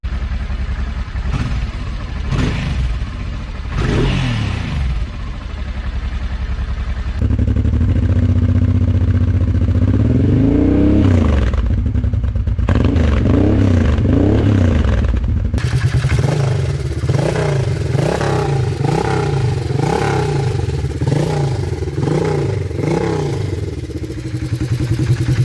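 A Honda Shadow 600 V-twin engine running close and loud, a steady uneven lumpy pulse with rising and falling revs as the throttle is blipped repeatedly.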